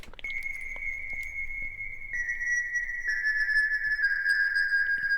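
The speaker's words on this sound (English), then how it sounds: "we're getting essentially 15 dB of tape distortion." A sustained synth tone, gritty and saturated from about 15 dB of tape distortion, stepping down in pitch a few times, with a faint hiss and low rumble underneath.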